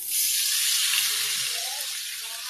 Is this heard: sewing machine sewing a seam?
no